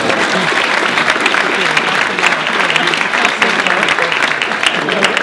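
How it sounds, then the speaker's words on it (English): An audience at an educator award ceremony claps steadily, a dense wash of applause at even volume throughout, with no pauses or voices standing out. "So let's give ourselves an applause, please."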